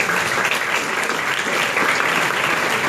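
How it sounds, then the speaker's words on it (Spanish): Audience applause at the closing awards ceremony of the FICIC 2018 film festival, a dense, loud, sustained clatter of many hands, even throughout with a faint voice underneath. "un aplauso entonces para Lucas"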